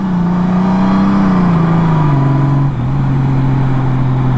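A Honda Goldwing motorcycle with a DCT gearbox pulls away under steady, loud engine drone, its pitch stepping down twice as the transmission shifts while it accelerates close by.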